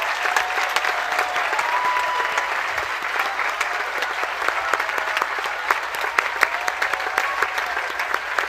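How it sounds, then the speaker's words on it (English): Graduating seniors at a high school commencement clap for their families and friends, a thick, continuous wash of crowd applause with scattered whoops, loud and steady throughout. "give your family and friends a big round of applause"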